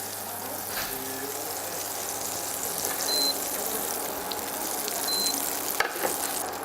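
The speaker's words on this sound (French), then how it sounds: "Donc, je fais fondre le beurre." Butter melts in a pan for a white omelette, giving a steady, close sizzle and crackle with a few faint clinks of a utensil and no talking.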